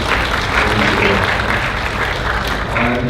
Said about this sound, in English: So give an applause to him.